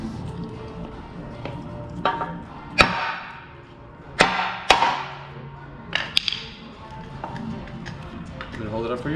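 Sharp metal hammer strikes knocking an old trailing arm bushing out of a Honda Integra suspension arm, several loud isolated blows spaced a second or two apart, with a few lighter taps, over garage background noise.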